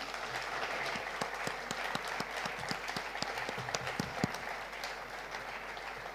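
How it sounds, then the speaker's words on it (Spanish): An audience applauds a panel at a conference, steady clapping from a moderately sized crowd that gradually thins and fades. "Un aplauso, por favor, este magnífico panel."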